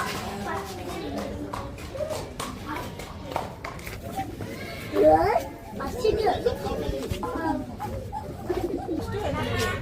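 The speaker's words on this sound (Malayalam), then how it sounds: "കുറേ വെറൈറ്റി പ്രാവുകളുണ്ട് കേട്ടോ" Pigeons of many varieties coo in low, throaty bursts amid a busy outdoor mix of other birds and people talking at a farm.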